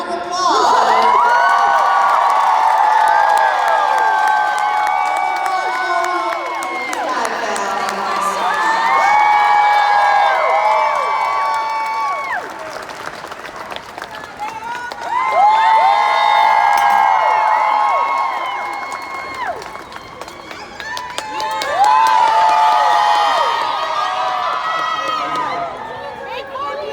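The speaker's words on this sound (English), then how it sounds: "can we give another huge round of applause?" A comic con crowd at a live celebrity Q&A erupts in loud, high-pitched cheers, screams and whoops that surge in four distinct waves over nearly half a minute, with scattered clapping underneath.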